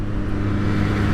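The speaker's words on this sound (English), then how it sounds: "It's a triple obviously, so listen, it sounds very racy." A 2020 Triumph Speed Triple RS three-cylinder super naked motorcycle runs on a dual carriageway, its engine a loud, close, continuous racy drone with no voices over it.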